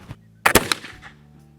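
A Kibler Southern Mountain Rifle loaded with 35 grains of homemade black powder fires once, a loud sharp blast with a brief rumbling echo, heard close up.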